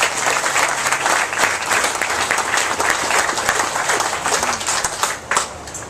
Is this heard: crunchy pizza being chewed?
no